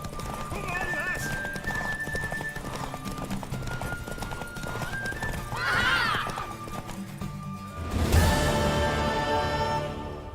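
Horse hooves clip-clop steadily in The Witcher 3 game, with a loud whinny near the end and another neigh midway, all under game music and dialogue.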